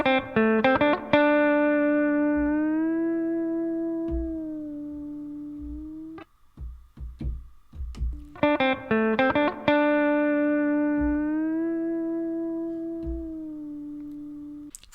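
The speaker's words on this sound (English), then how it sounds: "you notice how that gliss took a lot longer to glide there?" An electric guitar riff plays twice, each time gliding slowly up into a long sustained note through a plugin pitch-glide effect simulating a whammy bar, with heavy distorted tone and short choppy notes in between.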